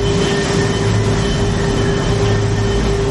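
A Philippine National Railways diesel train rolls past close by, a loud, continuous rumble with a steady engine hum and droning tone, no voices.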